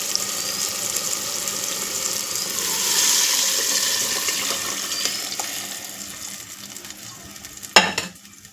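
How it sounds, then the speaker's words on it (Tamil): Dissolved masala water goes into a hot pan of thirukkai fish curry with tomatoes, making a steady, loud, hissing sizzle that swells and then eases, ending with a sharp clink. "இப்போ கரைச்சி வச்சுருக்க மசாலா தண்ணி எடுத்து அதில் ஊற்றிடலாம்"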